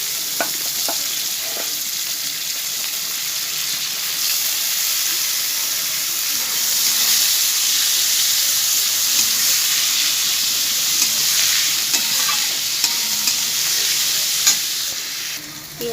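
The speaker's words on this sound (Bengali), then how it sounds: "পেঁয়াজগুলো আমার ভাজা ভাজা হয়ে গেছে।" Sliced onions and bay leaves fry in hot oil left in a pan from frying pointed gourd, a loud, steady sizzle with occasional stirring clatter throughout and no talking.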